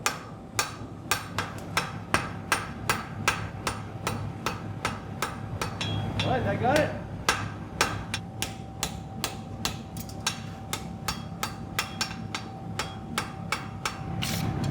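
Rapid, regular metallic strikes of a power hammer pounding metal, evenly spaced and close, with a steady mechanical hum and a brief spoken remark.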